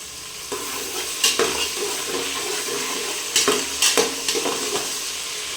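Cinnamon, cloves, cardamom and onion fry in ghee for ghee rice, giving a steady close sizzle broken by several sharp scraping stirs of a spoon against the pan.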